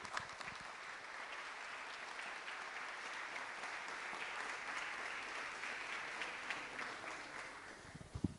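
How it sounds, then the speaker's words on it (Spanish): A church congregation applauds during a sermon, producing a faint, steady wash of clapping that holds evenly from start to finish. "Dale un fuerte aplauso a la sangre de Jesús"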